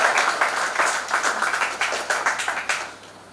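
An audience at a retirement ceremony bursts into applause, a dense, close wash of many hands clapping steadily for about three seconds before tapering off toward the end.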